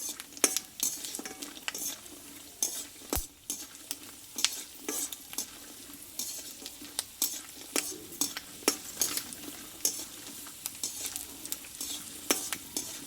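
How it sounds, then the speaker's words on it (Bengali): Peanuts fry in a pan of white cooking oil, a steady sizzle broken by frequent sharp scrapes and clinks of a utensil stirring them, close and continuous with no talking. "দেখো এখানে কিন্তু বাদামটা ভাজা হয়ে গেছে"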